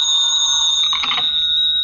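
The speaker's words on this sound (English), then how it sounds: "Wouldn't want to lay a little bet why this phone's ringing at this time of night, would you?" A telephone rings late at night in a radio drama, a loud steady electronic bell tone sustained throughout the short moment with nothing else over it.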